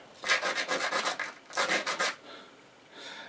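Kentucky coffee tree seeds rubbed firmly against a rough surface, a quick series of dry rasping strokes in two bursts, close and fairly loud, then a fainter scrape at the end, with no voices.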